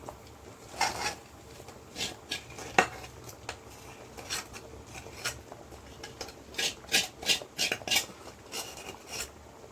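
Sambar being stirred and mixed in a pot, with a utensil scraping and clinking against the metal in repeated bursts, close and fairly loud, with no talking.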